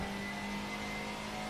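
Race car on track as the driver lifts and gets back on the throttle, the engine holding a steady, buzzing drone that sounds slightly distant and muffled inside the cabin.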